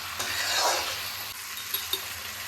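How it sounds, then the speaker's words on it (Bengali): Potatoes frying in a pan while cooking a paneer potato biryani: a steady, close sizzle with stirring, and a couple of light utensil clinks near the end. "এখন এই আলুটা খানিকক্ষণ ভেজে তার মধ্যে দিয়ে দেবো পনির।"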